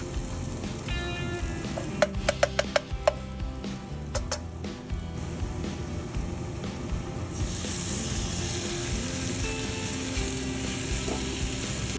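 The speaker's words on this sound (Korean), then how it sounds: "뭉쳐있는 고기를 풀어주면서 맛있게 구워주겠습니다" Meat sizzles in a pan beside caramelized onions for hayashi rice, a steady close frying hiss with a cluster of sharp spatula clicks early on.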